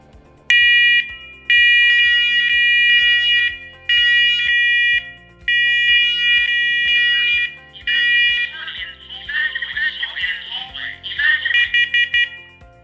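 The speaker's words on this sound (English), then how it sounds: "press and hold the test button validating that each alarm is communicating" Battery-operated wireless interconnected smoke alarms sound during a test: loud, piercing electronic beeps in repeated bursts with short pauses, then a fainter, warbling overlap as further linked alarms join in.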